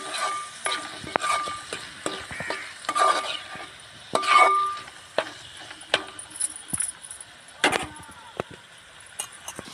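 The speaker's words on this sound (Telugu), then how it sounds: "ఈ రెండు వేసుకున్నాక ఒకసారి తిప్పుకుందాం ఉడికేటప్పుడు" Snail curry cooks in a pot and is stirred, with sporadic scraping and clinking of a utensil against the pot over a soft bubbling background.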